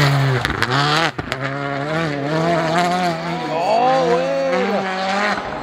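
A rally car on special stage 13, Sandl to St. Oswald, roars loudly and close through a curve, its engine note climbing and dipping in waves over several seconds, with voices of onlookers underneath.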